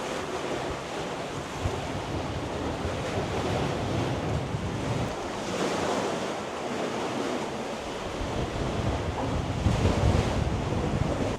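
Ocean waves wash ashore at a beach in Navarre, Florida, in a continuous roar of surf with swells rising and falling, mixed with heavy wind buffeting the microphone and no speech.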